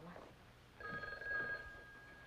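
A telephone rings with a steady electronic trill for under a second, faint and somewhat distant, with a brief voice murmuring before it.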